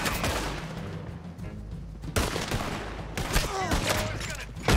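Rapid gunfire from Red Dead Redemption 2 crackles in dense bursts throughout, with a voice talking over the shooting.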